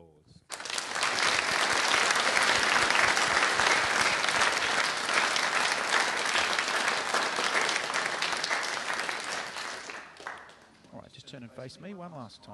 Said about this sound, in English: Please signal your willingness to do this with your applause.